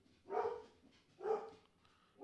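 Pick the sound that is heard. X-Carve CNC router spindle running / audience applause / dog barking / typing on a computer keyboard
dog barking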